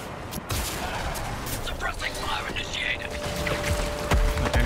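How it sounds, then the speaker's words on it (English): Suppressing gunfire from Suicide Squad Kill the Justice League: a dense, sustained volley of game gunshots and thuds fills the clip, with no pauses and a heavier burst near the end. "Suppressing fire initiated."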